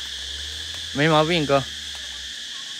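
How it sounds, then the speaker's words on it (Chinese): Cicadas buzz loudly outdoors in Laos, a steady high drone running through the whole stretch while someone speaks briefly over it. "知了太吵了"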